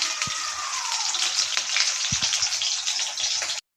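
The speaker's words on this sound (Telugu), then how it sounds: "ఆయిల్ మన దగ్గర ఉన్న కోసి పెట్టుకున్న ఉల్లిగడ్డలు పచ్చిమిర్చి వేసుకోవాలి" Chopped onions and green chillies fry in hot oil with a steady, close crackling sizzle, broken by a few soft knocks from stirring.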